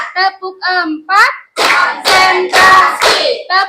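Schoolchildren and their teacher doing a counted clapping routine before lessons in a classroom: voices chant, then a run of sharp group claps in uneven bursts, loud and close.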